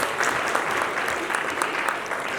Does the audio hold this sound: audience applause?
yes